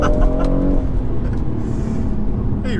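A BMW M140i engine pulls hard under acceleration, a loud, steady, near drone with rising harmonic tones and a brief shift in pitch partway through, heard alone without voices.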